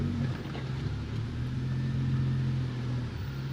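An off-road vehicle crawls slowly in terrain mode along the rocky Black Bear Pass trail in Colorado. Its engine gives a low, steady drone with a faint hum over it.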